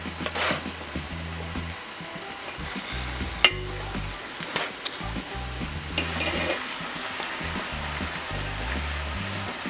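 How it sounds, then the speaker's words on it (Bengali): Chicken biryani gravy sizzles and bubbles steadily in a handi as it thickens, a close, continuous fry with occasional stirring clatter and no voices. "গ্রেভিটা একটু ঘন করে নিচ্ছি।"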